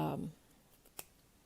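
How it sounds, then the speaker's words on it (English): Sharp scissors snip through the steek of a hand-knitted sweater with silk in the yarn, a single crisp close cut following a brief burst of speech. "these are sharp scissors"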